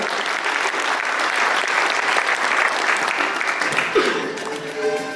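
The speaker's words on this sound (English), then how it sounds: "And give them a big round of applause, everybody." Audience applause at a small-town Chamber of Commerce banquet in Schuyler, Nebraska, a steady indoor clapping that swells, holds, then tapers off, with a few voices murmuring underneath near the end.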